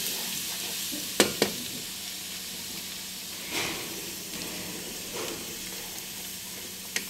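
Garlic stir-fried in a pan makes a constant sizzling hiss, broken by a few sharp scrapes and clacks of the spatula against the pan.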